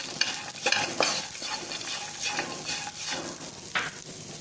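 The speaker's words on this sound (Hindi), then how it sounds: "मूंगफली भूनने में थोड़ा टाइम लगता है भूनने में, इसलिए इसको भी साथ साथ ये भी भून जाएंगे" Peanuts, almonds and chopped coconut roast in a pan with steady stirring scrapes and soft sizzling, close and moderately loud, with occasional sharper clinks of the spoon against the pan.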